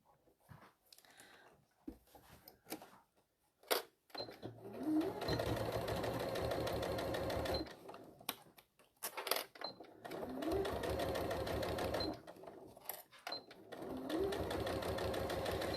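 A sewing machine stitches a clear vinyl pouch with wadding in several long rapid bursts of close mechanical whirring, separated by quiet pauses with small handling clicks.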